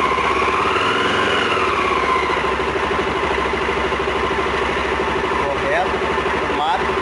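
A Honda CB 300R motorcycle engine runs steadily during fuel-injection diagnosis, a continuous mid-pitched idle throughout with some faint voices in the background.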